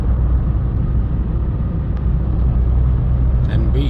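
Inside a small 2015 Citroen C1 1.4 HDi on the road, a loud, steady low engine and road rumble fills the cabin, with a faint brief voice near the end.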